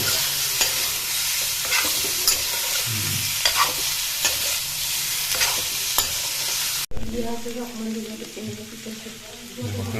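Pork stir-fried in a pan with no oil, seasoned with turmeric, makes a steady sizzle with repeated scraping stirs that breaks off sharply, then a softer sizzle follows.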